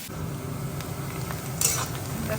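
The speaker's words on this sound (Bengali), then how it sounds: "এই সাইডে বরবটি আলুটা ভেজে নিচ্ছি" Yardlong beans and potato fry in a pan with a steady, close sizzle, while a spatula stirs and clinks a couple of times against the metal.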